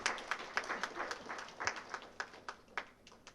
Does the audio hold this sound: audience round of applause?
yes